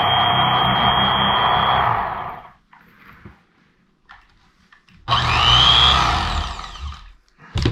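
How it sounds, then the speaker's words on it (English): Electric knife filleting Wisconsin crappie at a cabin in the woods: a loud buzzing motor whine runs steadily for about two seconds, stops, then starts again and rises in pitch as the blade rides along the backbone. "So I'm using an electric knife."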